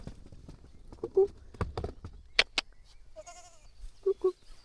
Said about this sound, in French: Des petites chèvres.